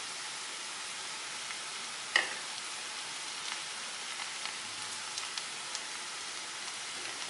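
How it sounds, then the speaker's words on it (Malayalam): Ground coconut spice paste hits frying onions with a steady, faint hiss and crackle. One sharp clatter comes early, then small pops continue under the sizzle. "നമുക്കിനി ചതച്ച് വെച്ചിരിക്കുന്ന അരപ്പ് ഇതിലേക്ക് ഇടാം"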